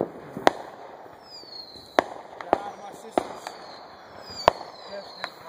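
Fireworks at a backyard-style show burst in sharp separate cracks, about six pops spread over a few seconds, with whistling rockets streaking between them and a faint murmur of voices in the background.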